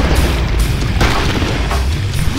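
A booming gunshot in a shooter video game, landing a headshot, heard as a loud close burst amid dense, noisy game sound.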